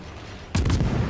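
Naval guns fire in World of Warships as a sudden broadband boom cuts in after a quiet start, followed by a rumbling tail and a second blast close behind, loud and near, with no talk.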